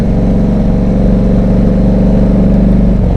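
A motorcycle engine runs loud and close with a steady, throaty rumble and slight rises in pitch as it revs, holding continuously with no pauses.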